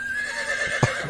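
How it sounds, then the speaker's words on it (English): A horse neighs, a short high whinny rising near the end over a faint steady background hum. "Get that horse out of here."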